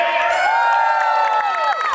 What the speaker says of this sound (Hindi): जरा जोरदार तालियों के साथ शोर मचा के बताइए